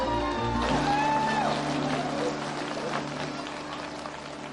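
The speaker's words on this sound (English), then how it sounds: "These guys have to clap." Audience applause fills a large conference hall at LinuxWorld, a steady, dense wash of clapping that holds throughout, with voices and a few tonal sounds mixed in over it.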